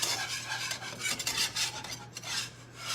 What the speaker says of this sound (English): mix this all together. It's gonna form a paste